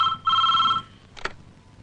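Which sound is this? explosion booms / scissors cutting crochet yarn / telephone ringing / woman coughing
telephone ringing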